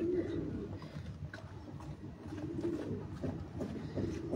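Pigeons on a Faisalabad rooftop coo softly and continuously, low and fairly distant, with faint background noise.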